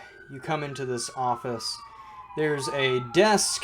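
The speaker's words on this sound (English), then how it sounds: "excuse the sirens going by" Emergency vehicle sirens pass outside, a long wailing tone sliding slowly through the background while someone talks continuously over it at close range.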